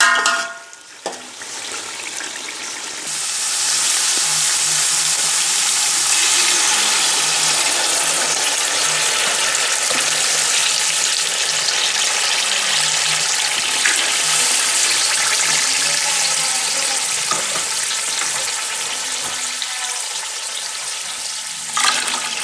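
Water coming to a boil in a pot of beef keema pulao after green chillies and about three glasses of water are added to tender cooked meat, a steady close hiss and bubbling that runs on with no talk.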